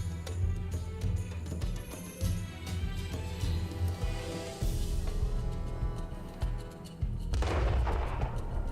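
Artillery fire in World of Tanks on console, heavy booming blasts and rumbling detonations rolling through a dense game soundscape, with a sharper burst near the end, loud and continuous with no talk.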